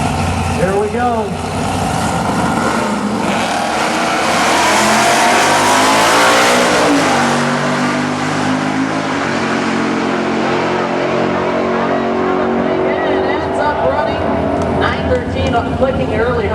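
Big block Buick drag race cars accelerating hard down the strip, a loud sustained engine roar rising in pitch as they launch and pull away, with a commentator talking over it.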